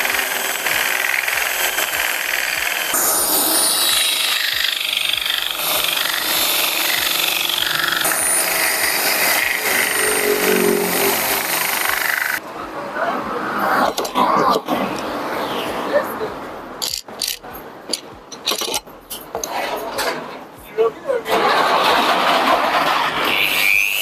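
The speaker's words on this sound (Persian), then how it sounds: "ببینید خیلی راحت شروع میکنه به سنباده کشیدن" A power sander works over curved wood, giving a dense, steady grinding hiss for about twelve seconds before it breaks into choppier, intermittent bursts as the tool lifts and moves, with a voice talking over it.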